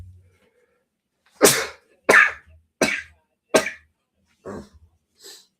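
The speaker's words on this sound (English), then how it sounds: "I sneezed." A person sneezes in a quiet room, then follows with a series of sharp, explosive bursts spaced about a second apart, the last few fainter and shorter, like coughs or throat clearing.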